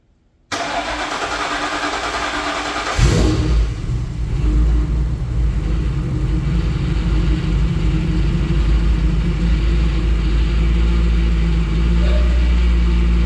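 A 1963 Ford F100 unibody pickup, run for the first time in 30 years, cranks briefly and catches, then settles into a loud, steady, rumbling idle close by.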